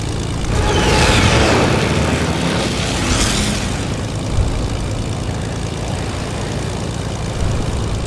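An airplane engine in the video game Fortnite drones loudly, with a couple of swelling passes early on, then settles into a steady roar with no talk.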